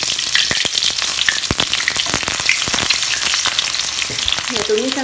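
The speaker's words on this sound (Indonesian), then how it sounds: "Ya, tumis sampai agak layu." Chopped shallots and garlic fry in a pan for Padang red sambal, a loud steady crackling sizzle with dense popping throughout, punctuated by occasional stirring scrapes and no voices.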